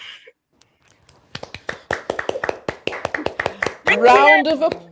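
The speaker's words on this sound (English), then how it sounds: "Round of applause from the studio posse and the crew." A studio audience and crew applaud in a quick run of sharp, fairly close claps after a short quiet start, and a voice speaks briefly at the beginning and again over the final claps.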